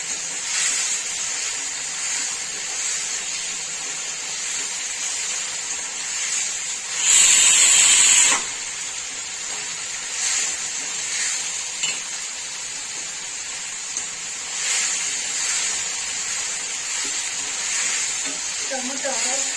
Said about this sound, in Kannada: ಟೊಮೆಟೊ ಎಣ್ಣೆಯಲ್ಲಿ ಸ್ವಲ್ಪ ಫ್ರೈ ಆಗಬೇಕು.